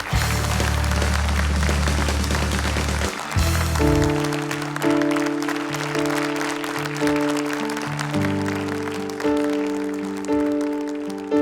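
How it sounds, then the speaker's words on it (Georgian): An audience applauds a young solo singer about to perform a famous song. A few seconds of broad clapping are followed by music starting up. "აპლოდისმენტები ჩვენს ბარბარეს."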